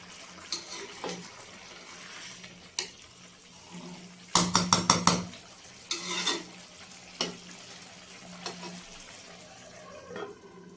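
Vegetable pulao rice is stirred and turned over in a pot as its water nearly cooks off, giving intermittent scraping and clattering strokes with one dense burst of rapid scrapes mid-clip over a faint steady background hum, with no talking.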